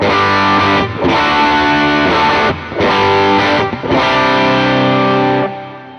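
Electric guitar played through an Ibanez TS808 overdrive pedal switched to bypass, loud, buzzy chords in several strummed bursts with short gaps, ending in a fading ring.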